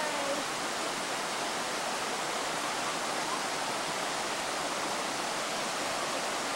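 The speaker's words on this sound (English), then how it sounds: "You like the waterfall?" A waterfall pours in a continuous, loud, even roar of rushing water, steady from start to finish with no talk over it.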